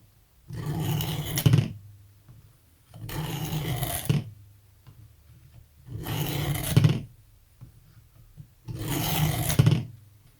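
A knife blade is drawn across the abrasive of a Work Sharp guided sharpening system in four separate rasping strokes, each about a second long with pauses between, close and fairly loud with no talking.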